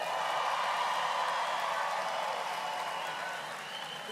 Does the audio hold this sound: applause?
yes